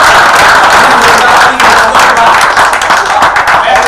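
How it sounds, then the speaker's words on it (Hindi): A crowd at a live Hindi stage performance claps and applauds loudly and continuously, a dense close wash of hand claps filling the moment without any speech. "इनके लिए तालियां बजा देना"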